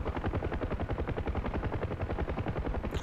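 A door gunner on a UH-1 helicopter in the DCS combat flight game fires his machine gun in long, rapid, close-up bursts, a steady hammering rattle laid over the rotor and engine roar.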